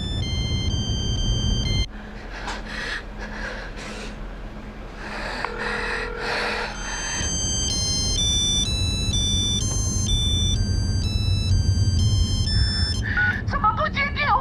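A phone ringtone plays repeatedly as an unanswered call, loud and tonal, with breathy snorting sounds and muffled noises mixed in across the stretch.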